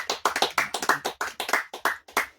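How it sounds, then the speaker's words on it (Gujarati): Hand claps welcome a guest onto the stage at a comedy show: about a dozen separate, sharp, close claps from only a few people, quick and slightly uneven. "તાળીઓના ગરગડાટ સાથે એમને અમે"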